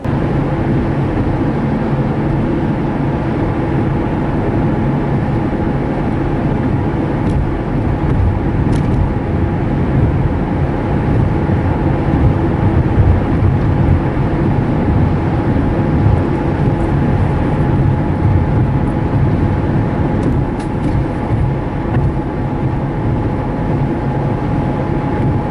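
Car driving on a road in traffic, with steady broadband road and engine rumble filling the whole stretch at a constant, fairly loud level, no talking.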